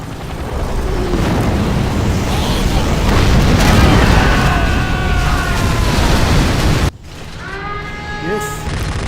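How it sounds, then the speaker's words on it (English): A nuclear missile strike in the Command & Conquer Generals strategy game, a loud sustained rumbling blast that fills the first seven seconds, with in-game unit voices speaking over it before it cuts to quieter battle noise. "Our ally has launched a nuclear missile."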